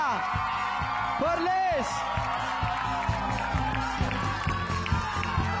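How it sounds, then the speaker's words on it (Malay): An audience claps and cheers for the runner-up primary school at the Junior Innovathon 2025 award announcement, a dense crowd noise running under an announcer's voice. "Tepukan untuk Sekolah Kebangsaan Sri Indra"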